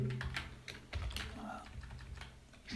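Quick clicks of typing on a computer keyboard while entering code for an array sorting demo, several keystrokes in a short burst, close and moderately loud with faint background noise.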